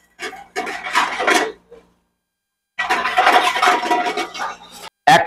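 A spoon scrapes and stirs coriander, turmeric and kasuri methi around a pan. Two close bursts of gritty rubbing are separated by a short pause, and a brief scrape follows at the end.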